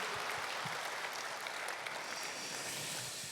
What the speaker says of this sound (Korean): 인사할 때 다시 한번 크게 수고하셨다고 격려의 박수 드리도록 하겠습니다.